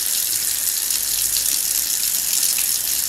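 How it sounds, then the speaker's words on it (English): Tap water runs steadily into a sink while makeup brushes and tools are washed, a close, even rushing hiss with no break and no voice. "You guys hear me over the water."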